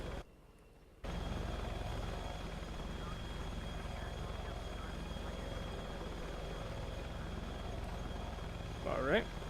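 A Virtavia AH-64D attack helicopter in the FSX flight simulator gives a continuous droning rotor and engine roar after a short quiet gap at the start, with a brief squeal near the end.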